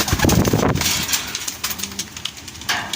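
A racing pigeon back from a 143 km training flight from Lopez, Quezon to Silang, Cavite gives a soft, faint coo outdoors, with a brief flutter and light background noise around it.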